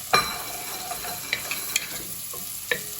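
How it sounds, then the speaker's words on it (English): Onion and carrots sautéing in a few tablespoons of oil, a steady soft sizzle under occasional light stirring clicks and utensil taps, close and fairly quiet. "Saute the onion a little bit, then add the carrots"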